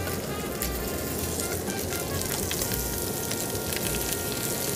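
Onion hits a hot pan where stuffed quails are searing, giving a loud, dense, steady sizzle and crackle close up with no talking.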